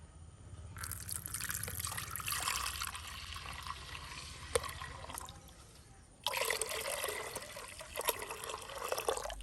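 Milk, about a liter, is poured for a rose watermelon sherbet as a steady, faint liquid stream that stops briefly and then resumes, with small drips and splashes.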